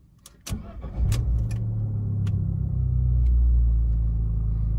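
An Abarth 595 Competizione engine cranks briefly after some clicks and catches, then settles into a steady, deep, rumbling idle close by.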